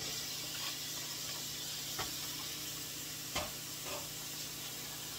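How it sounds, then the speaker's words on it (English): Vegetables, including broccoli, cauliflower, carrots and tomatoes, sizzle steadily as they stir-fry in a pan on a medium burner, a constant hiss with occasional faint clicks of stirring. "time for the veggies to be stir-fried"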